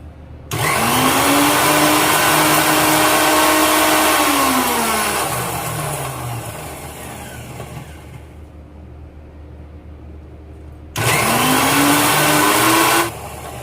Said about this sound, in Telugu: ఫస్ట్ అయితే మిక్సీ జార్లో ఎండుమిరగాయలు వేసుకున్నాను.